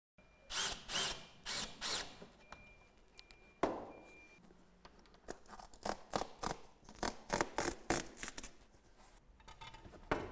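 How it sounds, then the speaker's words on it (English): Roof tile being secured with fixings beside a Velux Integra electric roof window, with close bursts of a power drill driving in, and rhythmic scraping and rubbing between them. "So now we just need to get our fixings and fix this tile into position."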